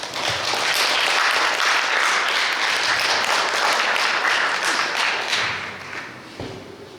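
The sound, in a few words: audience applause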